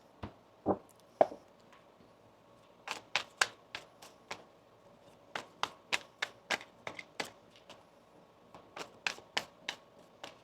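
Tarot cards are shuffled in a quiet room, giving a series of sharp, close taps and riffles in uneven clusters with short pauses between them.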